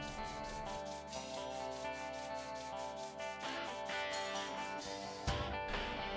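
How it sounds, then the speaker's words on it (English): Sanding the sides of an epoxy-coated wooden trout swimbait, a steady, close rubbing scrape running the whole time, with strong tonal hum and music-like harmonics layered underneath. "Now that the epoxy has cured, I decided to sand the sides a little bit before starting the next stage."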